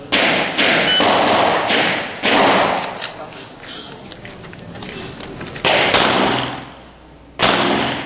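Firearms fire during shooting practice at Camp Karingal: loud, close shots come in separated bursts, about half a dozen in irregular rhythm, with quieter gaps between them.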